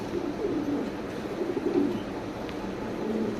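Two female Damascene pigeons giving soft, low cooing calls in short repeated bursts over a steady background hum, close by but quiet.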